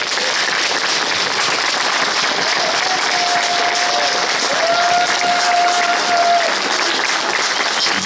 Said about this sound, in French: maintenant tout le monde va t'applaudir très fort